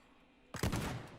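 A single shotgun blast in the destructive building game Teardown, sudden and punchy after near silence, with a short crackling tail of debris.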